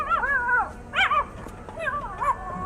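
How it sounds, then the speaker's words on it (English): Alien puppies whimpering in a Star Wars animated show, a few high, wavering whines and yips in short bursts, fairly close and clear, with a little low talk underneath. "Oh, alien puppies."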